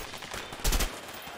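Video game gunfire from A Way Out, a short burst of shots cutting in loudly over quieter background game sound, with no talk.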